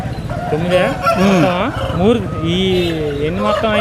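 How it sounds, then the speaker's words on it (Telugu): Hens and roosters at a Sunday country-chicken market in Boddam village, Vizianagaram district: a rooster's loud, drawn-out crowing over a chorus of clucking, close by, with voices talking over it. "ఏడు పెట్టలు రెండు పుంజులు ఉన్నాయండి"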